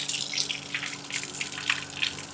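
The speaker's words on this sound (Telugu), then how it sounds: "పైపులో నీళ్ళు తాగుతా ఉన్నాడు" Water streams from a hose pipe as a dog drinks from it during an outdoor bath, a steady close splashing gush with uneven bursts, no voices.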